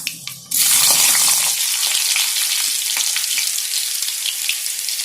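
Garlic hits hot oil in a pan for Tamil fish curry, meen kulambu, bursting into a loud, steady sizzle with crackling pops that continue after a few brief clinks at the start.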